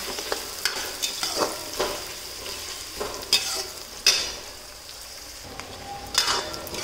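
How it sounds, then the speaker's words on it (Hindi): Chopped onions, two medium ones, frying in a pan for besan curry, with a steady crackling sizzle and repeated scrapes and clinks of a spoon stirring against the pan, close and fairly quiet. "अब हम प्याज को लाल होने तक भूनेंगे।"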